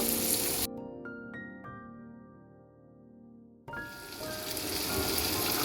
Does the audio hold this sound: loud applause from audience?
no